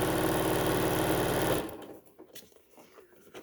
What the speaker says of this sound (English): I'm going to take it over to my sewing machine and I'm going to stitch all the way on